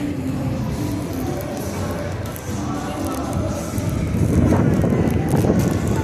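Strong wind buffets the microphone on the deck of the Allure of the Seas cruise ship near the Aqua Theater, a heavy rumbling roar that stays loud throughout and grows stronger toward the end, with voices faintly mixed in.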